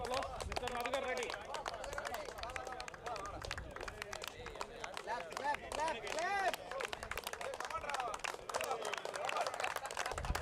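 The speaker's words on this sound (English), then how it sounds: "Please give him a big hand of applause, Mr. Madhukar Reddy." Clapping from a crowd at a cricket league final awards ceremony, rapid and uneven, mixed with speaking voices and chatter throughout.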